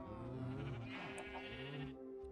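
Sheep bleating in a Minecraft mangrove area, a few wavering nasal bleats close up, overlapping one another at steady loudness with no talk.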